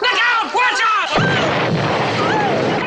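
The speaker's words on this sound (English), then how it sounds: "the fire goes along the gasoline and creates another explosion" In a Hitchcock film scene, fire runs along spilled gasoline and sets off a deep booming explosion, heavy rumble and crackle following amid frantic shouting voices.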